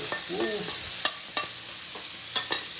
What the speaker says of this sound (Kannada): ಇದೇ ಎಣ್ಣೆಗೆ ಆಯ್ತಾ ಇದು ಸ್ವಲ್ಪ ಫ್ರೈ ಆಗಲಿ